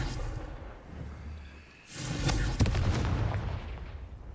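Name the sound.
Confringo spell explosion in the video game Hogwarts Legacy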